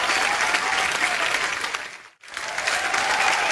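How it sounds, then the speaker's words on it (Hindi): A studio audience bursts into loud, dense applause that fills the room, dips briefly to near silence for a moment, then resumes just as strongly. "तालियां जोरदार होनी चाहिए।"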